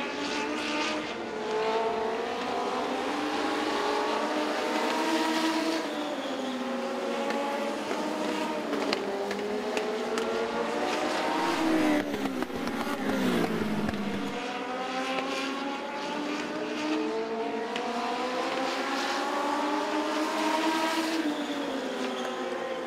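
Legends race cars lap the oval at Southside Speedway, engines howling and shifting pitch as the pack sweeps past and fades, a continuous loud roar with overlapping motors and no audible talk.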